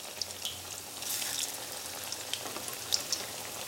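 Pithe rice cakes frying in oil over low to medium heat: a steady soft sizzle with fine bubbling and a few brief crackling pops, close by and fairly quiet.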